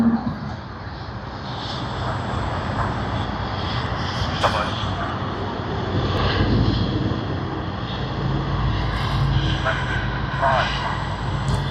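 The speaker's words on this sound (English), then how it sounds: "Hey, the thrust reverses." A Garuda airliner arriving at Sydney Airport from Denpasar lands and engages its thrust reversers, producing a sustained distant jet roar that swells gradually while a person talks over it.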